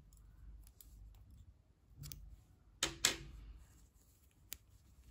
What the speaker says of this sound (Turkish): Burada ipliği kesiyorum bakın.